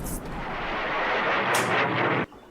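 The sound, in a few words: artillery explosion in a WWII strategy video game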